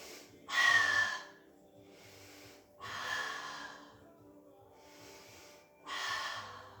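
Loud, breathy exhalations during a pilates exercise come in a slow rhythm of about four long breaths, close to the listener, with faint quieter breathing between them.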